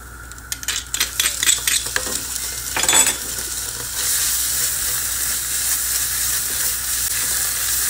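A spoon scrapes and clatters in a pan while tomato paste is stirred into a sauce, a burst of quick irregular knocks, followed by a steady, loud sizzling hiss that fills the rest.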